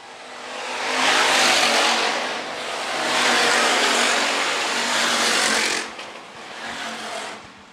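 Hobby stock race cars battle on a dirt oval at Phillips County Raceway, loud engine roar swelling and fading in waves as the pack sweeps past, with a brief dip before another car's engine rises again.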